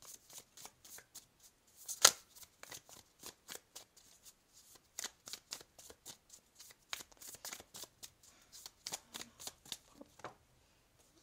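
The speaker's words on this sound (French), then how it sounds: "On va aller demander une deuxième carte de conseil pour vous." Oracle cards shuffled by hand to draw an advice card, a steady run of soft crisp riffles and taps over about eleven seconds, close and fairly quiet, with one sharper snap early on.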